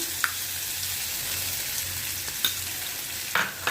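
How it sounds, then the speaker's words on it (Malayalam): Chutney poured onto hot tempering in a pan gives a soft, steady sizzle, with a spoon stirring and clinking against the pan now and then, close by and fairly quiet. "നമുക്ക് ഈ ചട്നി ഉണ്ടല്ലോ അത് നമുക്ക് ഇതിലേക്ക് ഇട്ടുകൊടുക്കാം"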